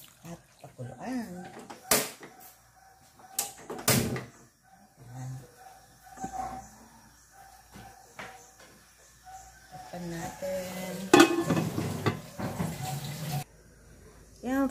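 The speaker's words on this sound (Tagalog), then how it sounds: "Tapos ngayon, lagyan natin ng tubig. At pakuluan." Water from a tap runs into a pan of skinless pork longganisa in a home kitchen, with splashing pours and clatter. A person speaks over and between the bursts.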